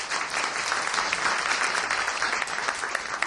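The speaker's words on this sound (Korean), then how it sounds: "한 번 더 감사 박수를" Steady, dense applause from a lecture audience at an academic conference marking Calvin's 500th anniversary, evenly sustained clapping with no talk over it.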